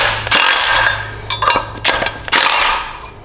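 A wrench tightens a flywheel puller on a worn Predator 212cc engine, giving several close, harsh metallic ratcheting bursts with short pauses in a workshop, no talk.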